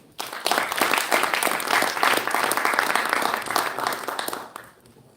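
Full, dense applause from a seated audience welcoming a member of parliament onto the stage, steady and loud for about four seconds before tapering away.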